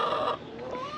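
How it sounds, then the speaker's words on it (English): Backyard chickens on a half-acre garden homestead cluck and squawk loudly and insistently, close by, in a short burst with no talking. "the chickens are yelling at me because I've not given them any treats yet."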